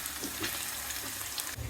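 Chopped onions sizzle in a pan of oil with dried chillies, garlic and bay leaves. A brief, even frying crackle is heard up close, with a light stirring scrape.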